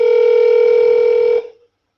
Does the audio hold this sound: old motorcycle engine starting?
no